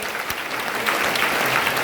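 An indoor crowd applauds steadily for the whole stretch, a dense, loud wash of many hands clapping at once, with no clear voices over it.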